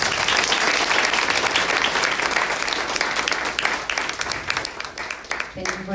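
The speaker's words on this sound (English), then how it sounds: "Let's give him another round of applause." A crowd gives a speaker loud, full applause after a talk on Sudan's revolution. Dense clapping thins slightly toward the end, with voices mixed in underneath.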